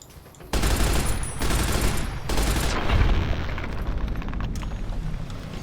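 The robot companion ED-E lets loose dense, sustained gunfire in Fallout: New Vegas, a loud continuous roar of rapid shots with a brief pause before it resumes and slowly fades.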